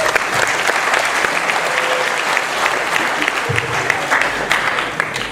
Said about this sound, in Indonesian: Tepuk tangan Bapak sekalian.